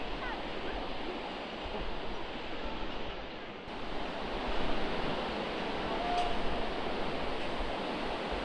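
The Tadi river flows below Dupcheshwor temple and its suspension bridge, a constant broad rushing roar with some wind buffeting. It swells slightly partway through.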